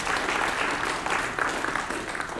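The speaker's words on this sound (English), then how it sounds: "let's give him a round of applause to the Lord" Steady applause from a church congregation at a contemporary service, a full, continuous wash of clapping from many hands.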